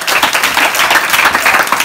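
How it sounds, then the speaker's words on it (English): Loud, dense applause from a crowd of school students at a self-confidence talk in Ikorodu, many hands clapping together steadily and close up without pause. "please give a round of applause"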